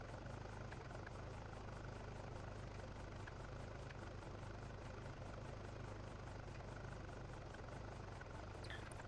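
A steady helicopter engine drone inside the iRacing sim, a continuous low whir with a faint rhythmic rotor pulse, quiet and unbroken throughout with no talking.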